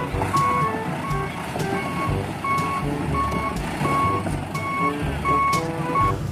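A toy sand-and-stone dump truck gives off a steady run of reversing beeps, evenly spaced electronic tones repeating at a brisk rhythm over a busy, fairly loud background.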